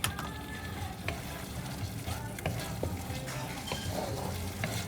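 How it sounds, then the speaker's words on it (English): Yellow noodles for mee goreng basah are tossed and stirred in a hot pan, a steady frying sizzle with frequent scraping and clanking of the utensil against the metal, close and fairly busy. "So I'm adding in 2 tablespoons and I'm going to mix it. And then we're going to allow this to cook."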